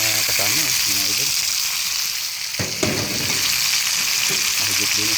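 Field frogs, over a kilo, frying in a pan with crushed pepper and chili, sizzling loudly and steadily up close while someone talks over the crackle at the start and end.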